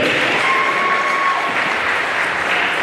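Audience applause at a City College of San Francisco vs Chabot College men's basketball game, a loud, dense, steady wash of clapping from a crowd that continues throughout.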